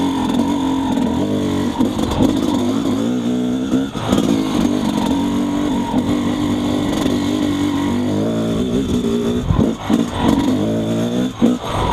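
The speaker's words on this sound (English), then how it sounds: "Now, let's proceed with the second gear test, still without using the clutch." A motorcycle fitted with a Keihin 38 carburetor and STIC+JD jetting is ridden in second gear without the clutch, its engine droning loudly and close with uneven revs, brief dips and stumbling surges.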